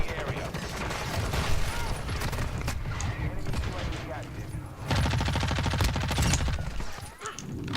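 Rapid bursts of automatic gunfire and scattered shots ring out in the Warzone 2 video game, loud and dense, with someone talking over parts of it.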